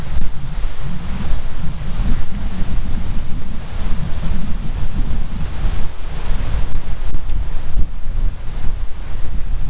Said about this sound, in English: so you do get a lot of wind